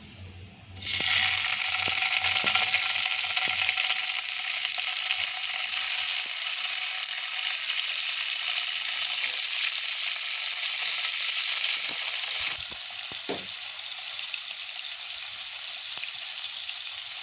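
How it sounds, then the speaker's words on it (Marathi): Paneer pieces frying in a little oil in a pan for palak paneer, a bright steady sizzle starting abruptly and holding loud and close, then easing slightly near the end with a brief utensil knock. "पॅनमध्ये थोडंसं तेल घालून हे पीसेस फ्राय करून घ्यायचे"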